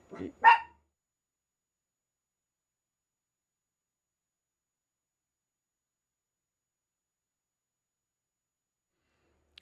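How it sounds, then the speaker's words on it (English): A small dog barks twice in quick succession at the very start, fairly close and loud, at someone upstairs inside a house, followed by near silence for the rest. "barking at whoever's upstairs"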